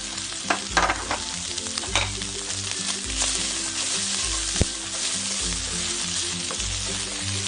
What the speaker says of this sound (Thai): ใส่กระเทียมใหญ่นะครับหรือกระเทียมจีนลงไปนะครับ